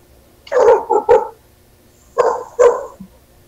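A dog barks outdoors in two pairs of loud, close barks separated by a short pause, with no talk over them.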